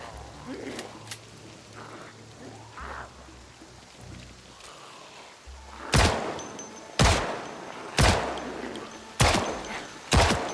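Gunshots in the zombie survival game Project Zomboid Build 42 ring out as five loud, evenly spaced single shots, each with a trailing echo, after a quieter stretch with a few soft clicks and light talk.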